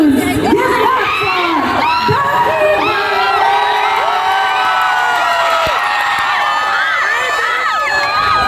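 A large convention crowd at an anime festival panel cheers, whoops and shouts loudly and continuously, with many excited voices overlapping throughout.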